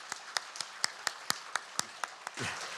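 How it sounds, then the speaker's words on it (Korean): Evenly spaced claps at a Korean church Sunday worship service, about eleven sharp beats in a regular rhythm, fairly faint and distant, ending in a soft rumble of movement. "우리 한번 축복의 박수 하도록 하겠습니다."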